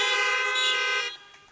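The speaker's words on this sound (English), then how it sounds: "If you're happy to be here, honk your horns." Car horns honk together in a sustained blare at a drive-in church service, loud and near, then cut off after about a second, leaving quiet.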